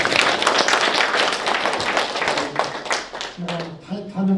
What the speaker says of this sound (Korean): 우리 박수 한번 더 치죠.